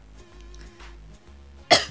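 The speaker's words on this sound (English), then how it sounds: "I just cough randomly at times" A single sharp cough near the end, loud and close, after a stretch of quiet low hum, during Roblox Evade gameplay.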